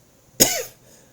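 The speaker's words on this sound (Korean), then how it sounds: "조금 알러지 증세가 있어서 지금 기침이 나옵니다" A single sharp cough from a man with allergy symptoms, close and dry, in an otherwise quiet church room.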